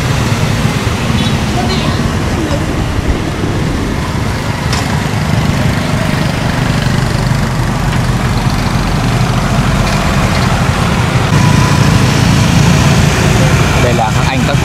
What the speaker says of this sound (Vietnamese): Những đoàn xe đang nối đuôi nhau để di chuyển từ phía bên bờ Lâm Thao sang Tam Nông